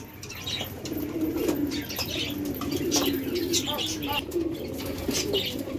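Soft, repeated pigeon coos heard among chirping birds and occasional wing flaps, set against a steady outdoor background hum.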